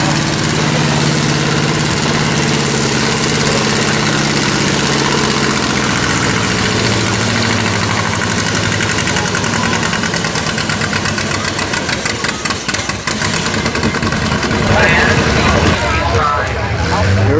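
A John Deere G tractor engine roars loudly and continuously during a 6,000-pound-class tractor pull, close and steady with a rough, throbbing rumble that pulses faster near the end.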